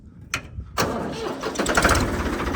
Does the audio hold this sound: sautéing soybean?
no